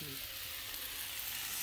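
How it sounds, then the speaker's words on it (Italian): Sausage frying on a hot griddle, a continuous close sizzle and crackle with no voices. "Salsiccio alla piastra, guardate un po' qui, sfrigola"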